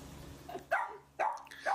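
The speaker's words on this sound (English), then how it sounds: "5-month-old Bella, a little barking Boston Terrier" A Boston Terrier puppy gives three short, sharp, high barks in quick succession, fairly close and alone in a quiet room.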